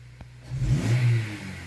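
A car engine revs up under throttle, climbs to a loud peak, then eases off and settles back toward a steady idle, close and without any talk, during diagnosis of an air-fuel sensor range fault.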